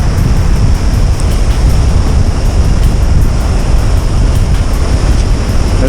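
Ocean surf breaks into white water along a beach during striped bass surfcasting, a loud, continuous, close roar of washing waves with a little wind noise, with no voices.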